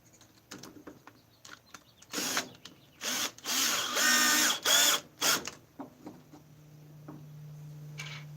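A power drill drives 1.5-inch number 10 wood screws into wood without pre-drilling, several loud whirring bursts with ratcheting clutch clicks between pauses, ending in a steady low hum.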